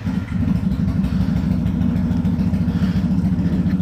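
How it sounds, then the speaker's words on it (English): Carbureted Honda Magna motorcycle engine idling close by, with a loud, steady low throb and a rapid pulsing rhythm throughout. "The good old-fashioned Honda Magna."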